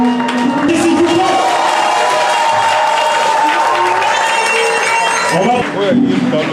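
Audience at a gala evening applauding and cheering, a steady dense wash of clapping with whoops throughout, crowd noise and a voice over it.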